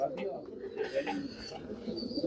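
Rampuri and Amritsari pigeons coo in soft repeated bursts at a breeder's loft, with someone talking over them throughout.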